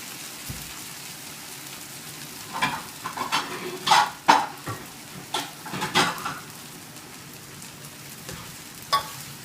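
Bean sprouts stir-fried for prawn fried rice hiss and sizzle in a hot pan, with scraping stirs and clattering spatula strokes coming in irregular bursts over a steady frying crackle.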